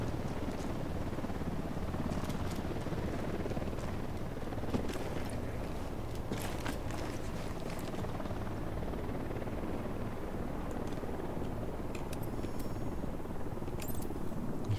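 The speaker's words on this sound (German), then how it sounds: "Heli im Anflug." A helicopter in Ghost Recon Wildlands drones with a continuous rotor thrum, holding steady and fairly loud throughout with occasional sharp game noises over it.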